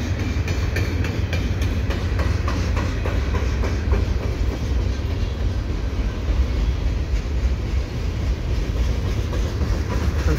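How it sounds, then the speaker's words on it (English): A CP freight train rolling past at Dorval, with steady loud rumble and a rapid, continuous clickety-clack of wheels over rail joints, close and uninterrupted for the whole stretch. "this train will be heading to Tashiro Yard"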